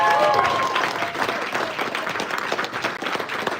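An audience at a comedy fundraiser claps steadily in a warm round of applause, a dense crowd sound that starts full and stays even before slightly thinning out.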